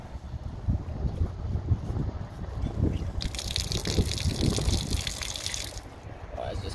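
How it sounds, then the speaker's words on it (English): Water drains from the fresh water tank of a Thor Freedom Elite camper, a steady trickling flow with a brighter rushing hiss in the middle stretch. No one speaks. "Down here is where you can drain that water tank if you need to."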